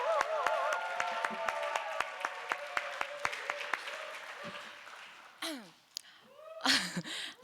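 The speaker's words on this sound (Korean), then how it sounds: "단상으로 보실때 큰 박수로써 모시도록 하겠습니다." A church congregation claps steadily in a sharp, dense patter that fades out, followed by faint breaths and rustling near a microphone.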